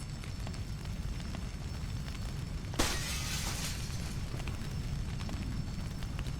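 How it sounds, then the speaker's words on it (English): Skylights shot out in the Splinter Cell video game, a sudden bright burst of shattering glass that crashes in and then tinkles and scatters for about a second over a steady low background rumble. "Shoot out the skylights."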